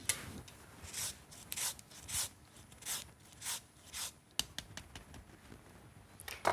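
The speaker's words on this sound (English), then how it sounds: "And then some lemon zest." Lemon being zested on a grater, a series of short rhythmic scraping strokes, about eight rasps spaced roughly half a second apart, quiet and close with no talking.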